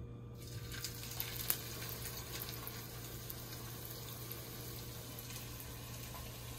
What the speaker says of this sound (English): my oil is hot. Make sure the stove is not too high. And I'm gonna place the first one in.